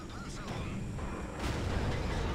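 A tank cannon fires in a World of Tanks battle: a heavy boom rises around the midpoint over a constant rumbling engine bed, with faint game sounds and no clear talk.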